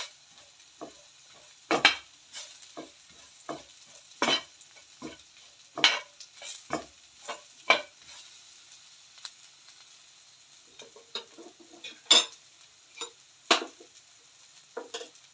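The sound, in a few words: stirring coriander powder frying on low flame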